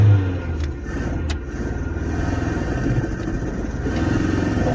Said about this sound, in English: I'm having to give her full throttle, full RPM.